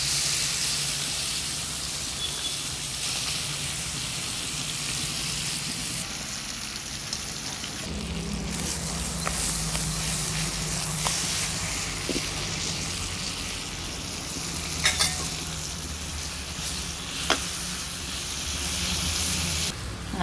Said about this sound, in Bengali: তেলটা লড়াই দেওয়ার পরে মাছটা দিয়ে দিই।